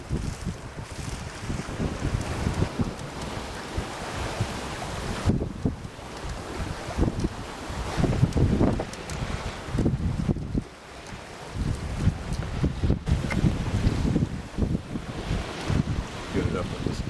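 Steady wind at sea buffets the microphone aboard a Swan 48 sailboat offshore, with broadband gusty roar and low rumbling pulses throughout, briefly easing near the middle; faint voices may be present.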